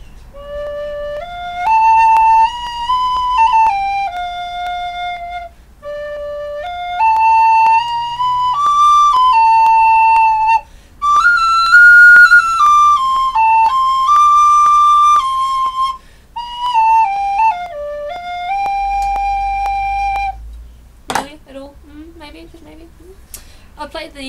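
A theme played on a penny whistle, a bright solo melody in several phrases separated by short pauses, close and clear, ending with a few sharp squeaky notes.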